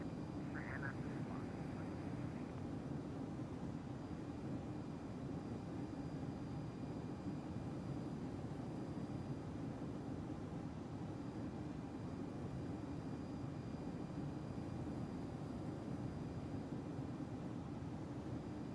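A Boeing 767 in the X-Plane 11 flight simulator powers up for takeoff, its engines giving a steady, dense broadband roar that holds level throughout, with a brief faint tone near the start.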